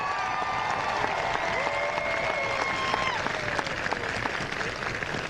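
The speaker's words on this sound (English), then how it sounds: "I'd like one more round of applause" Sustained audience applause fills a school band show, dense steady clapping from a large crowd with cheers rising over it throughout.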